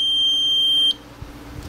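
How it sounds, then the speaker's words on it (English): A low-voltage battery alarm for 9-14 VDC batteries sounds as the supply drops to 9 volts: a loud, high electronic tone holds for nearly a second, then cuts off, leaving faint room noise and a few soft knocks. "see the LED goes on and then the alarm goes off"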